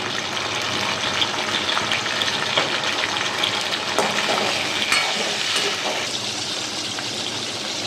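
Chopped capsicum fries in a pan for Hilsa fish, a continuous loud crackling sizzle with scattered pops and stirring scrapes, steady throughout and no one speaking.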